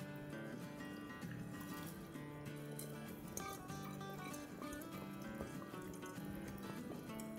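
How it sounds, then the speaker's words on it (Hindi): Soaked basmati rice goes into a pot of water for aloo matar pulao, making a steady, close liquid pouring and trickling sound throughout, with a faint tonal background hum. "तो चले अब इसको डाल देते हैं पानी में।"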